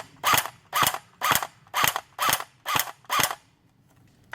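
A Snow Wolf PPSH-41 airsoft gun fires seven evenly spaced single shots at a 30-metre range, each a sharp mechanical crack and whir, with nothing else in between.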